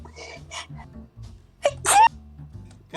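A loud, sharp sneeze bursts out once, near and clear, amid a casual tabletop role-playing game session, with people talking quietly before and after it.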